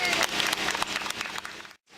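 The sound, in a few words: audience applause for Atka the dog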